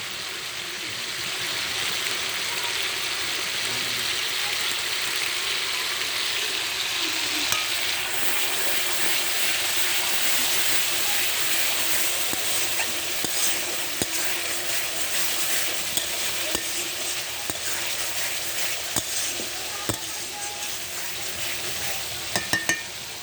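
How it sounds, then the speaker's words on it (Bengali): Ready-mix meat masala frying in hot oil for a goat meat curry, a steady, loud broadband sizzle that holds for the whole stretch, with occasional sharp crackles and stirring scrapes near the end. "এই রেডিমিক্স মাংসের মশলা খুব সুন্দর একটা সেন্ট আছে। এর আমি তেলে দিয়ে দেবো।"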